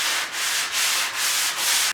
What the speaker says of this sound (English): I'm going to just lightly sand it.